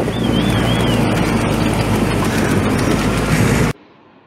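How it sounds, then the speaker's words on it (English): An excavator crosses a river, carrying a rider. Close and loud, its heavy mechanical rumble comes with rattling clatter, holds steady, then cuts off abruptly near the end. "I had to cross a river in an excavator along the way."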